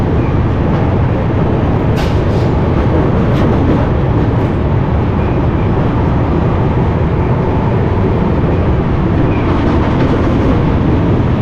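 Rapti Sagar Express rumbling along its tracks as another train crosses past, a loud, dense, continuous roar without voices.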